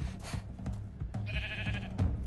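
A sheep bleats in Minecraft Story Mode, a short game-animal cry heard amid busy game sounds and effects, fairly close and moderately loud, with no talking.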